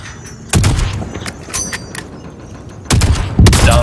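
Sniper rifle fire in the Warzone video game: a few heavy, sharp booming shots at irregular intervals, loud and close, with quieter game ambience and mechanical clatter between them.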